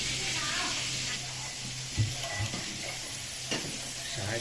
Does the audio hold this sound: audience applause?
no